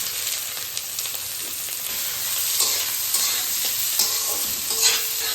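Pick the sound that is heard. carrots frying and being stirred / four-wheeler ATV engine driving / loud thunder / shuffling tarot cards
carrots frying and being stirred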